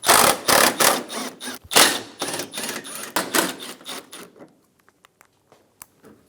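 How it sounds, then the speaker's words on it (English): A 10mm socket wrench ratchets bumper bracket bolts loose on a 2013-2017 Honda Accord, with rapid bursts of clicking for about four seconds, then a few sparse, quieter clicks. "Using a 10mm socket, remove the bolts for the bumper bracket."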